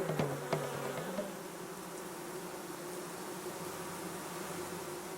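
A honeybee queen flies back to her hive after a mating flight, a faint, steady insect buzz that lingers throughout with a few brief louder hums near the start.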